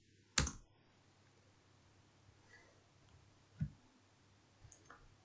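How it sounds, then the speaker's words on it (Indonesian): Sharp keyboard clicks ring out in a quiet room as enter is pressed on a computer keyboard, one crisp strike at the start, another a few seconds later, then a couple of softer taps. "Langsung saja tekan enter."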